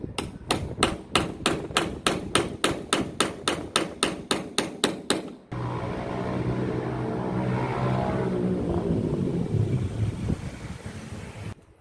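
Rapid metallic tapping of a punch on a Fiat Strada Working's driver-side dashboard panel, around sixteen evenly spaced close strikes for about five seconds, then a steady wash of noise with faint clatter.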